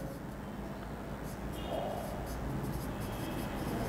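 Chalk or marker writing an answer on a classroom board, faint scratchy strokes under a steady room hiss, with no voice heard.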